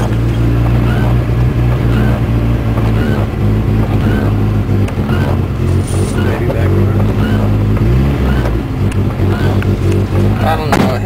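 Dodge Ram 50 (Mitsubishi Mighty Max) pickup truck engine running loud and close, with uneven revving and a rough, struggling idle that rises and dips throughout, voices talking faintly over it.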